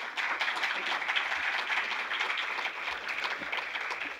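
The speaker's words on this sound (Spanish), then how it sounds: "Para ambas también, por favor, un aplauso" Sustained audience applause fills a conference hall, many hands clapping steadily and densely at moderate loudness throughout, with no voices rising above it.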